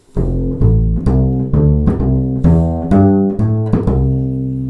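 A bluegrass bass plays a string of plucked notes in a steady rhythm, each note ringing out as the lines step through 6-chord arpeggios such as F6.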